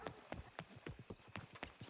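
Horse hooves clip-clop at a steady walking rhythm in the Red Dead Redemption 2 video game, distinct close thuds alone at fairly low volume.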